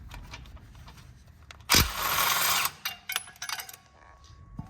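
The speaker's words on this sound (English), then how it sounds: "Now we're gonna take the toe points off. 15 mil socket." A 15 mm socket on a ratchet removes the toe point bolts on a Ford Raptor during a bumper install, giving a loud burst of spinning and clicking followed by scattered softer ratchet clicks and handling noises.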